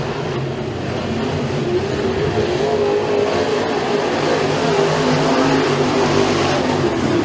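Race cars at Freedom Motorsports Park during a heat race roar around the track in a loud, continuous engine drone that stays steady across the whole stretch.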